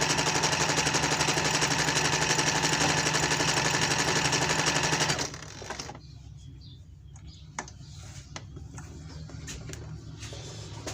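A PFAFF embroidery machine runs with a loud, dense mechanical rattle for about five seconds, then stops abruptly, leaving faint clicks and handling noises in a quieter room.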